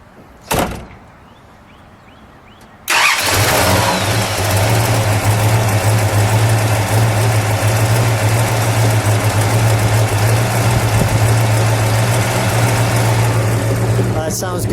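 A 1969 Dodge Super Bee with a 426 Hemi V8 cranks over after a door thump, catches and settles into a loud, steady, lumpy idle that holds without interruption close by, without any talk over it.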